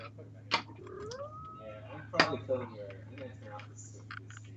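A house cat meows and yowls close to the microphone, with a couple of sharp cries rising over a low steady hum, and a person talks around them.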